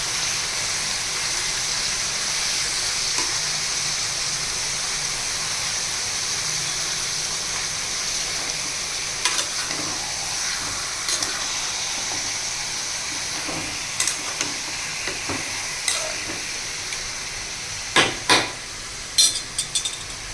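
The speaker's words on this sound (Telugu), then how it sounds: "చికెన్ బాగా వేగాల." Chicken fries in a pan with a steady broadband sizzle and hiss, loud and close, joined by sharper spattering crackles and pops near the end, with no talking.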